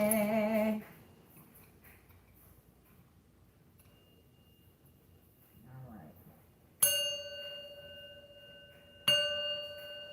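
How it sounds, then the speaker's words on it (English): A bell struck twice, each strike a bright metallic ring with a long sustained decay, one at the middle and one near the end, after a soft ringing fade at the start; moderately loud and fairly close. "Let's hit the bell, honey."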